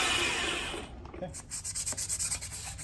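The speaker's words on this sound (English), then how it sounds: "Just trying to clean some of this rust off of here, get this mating surface a little nicer" Rust being scrubbed off the mating surface of an old waterlogged Yanmar marine engine head: a steady rasping rub at first, then a quick series of short scraping strokes, close and moderately loud.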